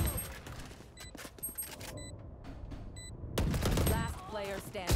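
Gunfire in the tactical shooter Valorant, sharp bursts of shots cracking loud and close amid game effects, with a voice talking partway through.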